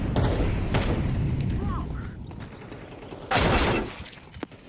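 Gunfire in a competitive shooter match between FURIA and Aurora, loud bursts of shots and mechanical clatter in two heavy clusters, with a separate sharp crack toward the end.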